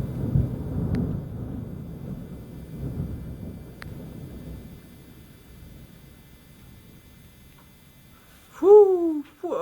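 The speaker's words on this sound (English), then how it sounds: "Good old summer storm." Thunder from a summer storm over the Royal National Park near Sydney rolls as a deep, loud rumble that slowly fades into quiet, before a person calls out excitedly at the end.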